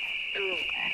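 Stream redemption alert of the Budweiser frogs croaking, a short burst of ribbed, descending croak tones over a steady high electronic tone, lasting about a second at moderate level.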